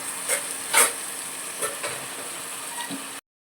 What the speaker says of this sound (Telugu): బాగా గరిటెతో మిక్స్ చేసుకోవాలి.